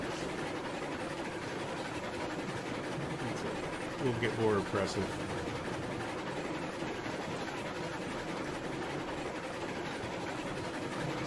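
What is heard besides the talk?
three-car train running, video game Railroads Online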